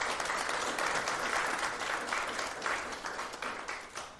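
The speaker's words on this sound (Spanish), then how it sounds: "Un aplauso," Applause from the audience at a law talk in Monterrey's Morelia campus, steady moderate clapping from many hands that continues evenly and fades slightly toward the end.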